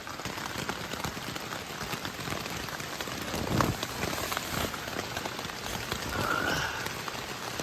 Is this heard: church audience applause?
no